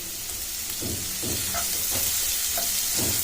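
Carrots, peas and chopped tomatoes with turmeric and salt are stirred in a pan, giving about five soft scraping strokes in a steady rhythm over a low, continuous sizzle.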